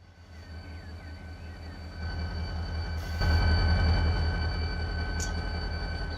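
A freight train loading in the Run 8 railroad simulator on the BNSF Los Angeles Junction Railway, a steady low diesel rumble with faint squeals, swelling louder partway through and holding a continuous drone, with no talk.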